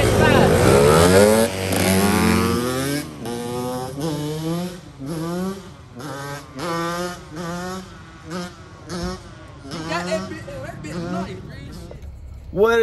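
An Apollo 125 four-stroke dirt bike climbs a hill, its engine close and loud, revving in repeated rising pulls that rise and fall in pitch.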